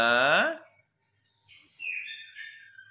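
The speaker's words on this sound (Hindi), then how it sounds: "ये मैना भी है हमारी आज हमारे साथ" Common myna calling close by in a home with pet birds: a brief harmonic opening note, then a short pause and a run of whistled chirps and warbles, moderately loud.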